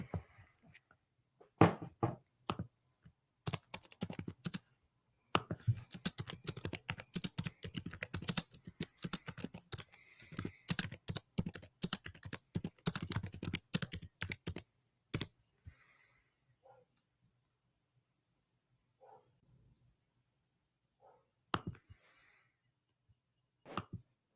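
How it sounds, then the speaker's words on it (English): Rapid bursts of typing on a computer keyboard, close and fairly loud, with clustered keystroke runs and short pauses, thinning out to a few scattered taps toward the end. "Hold on, I'm typing something in the chat."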